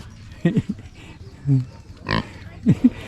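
Pigs grunt and squeal in short bursts while sniffing around in mud, several animals close by, with a sharp snort partway through.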